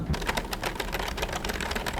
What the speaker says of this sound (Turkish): Şimdi herhangi bir yazı yazmaya başlıyorum.